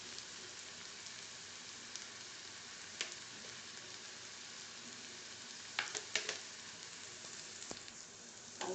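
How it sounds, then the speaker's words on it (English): Ginger and garlic sauté in a pan for black pav bhaji, a soft steady sizzle with occasional sharp clicks and scrapes of stirring. "I'll saute it"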